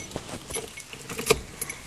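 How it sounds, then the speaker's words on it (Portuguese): Car keys jangling in a short burst of light metallic shakes and clinks, close by and fairly quiet, with no talk during the sound. "a minha chave do meu carro"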